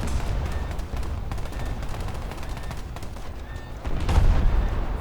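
Naval gunfire in War Thunder, a steady stream of rapid shots and dense crackling reports running throughout, with a heavier, louder burst near the end.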